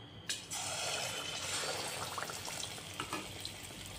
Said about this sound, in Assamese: এনেদৰে বেটাৰ লগাই এতিয়া তেলত দি দিম